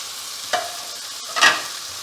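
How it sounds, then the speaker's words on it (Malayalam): Prawns stirred in a hot pan over high flame: two brief scraping clatters of the spatula over a faint, steady background sizzle, close and moderately loud, no talking. "അതും ഹൈ ഫ്ലെയിമിൽ തന്നെ ഒരു 30 സെക്കൻഡ്സ്, 30 സെക്കൻഡ് ഇളക്കി കൊടുക്കുക."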